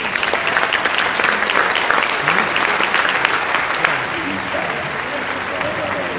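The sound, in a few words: big round of applause from audience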